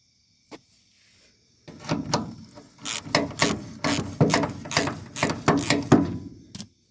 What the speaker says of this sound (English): Just loosen that. Harbor Freight Pittsburgh ratchet.